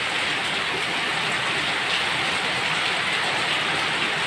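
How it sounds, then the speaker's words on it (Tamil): Heavy rain pours steadily during a storm in Chennai, a loud, constant hiss of water on surfaces that stays dense and even throughout. "சாரல் வீட்டுக்குள்ளே ஃபுல்லாக சாரல் அடிக்குது மழை"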